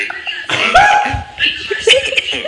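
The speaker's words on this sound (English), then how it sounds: "Sorry, I was coughing." Several rough, close coughing bursts come in quick succession, loud and breathy, with a voiced, throaty edge.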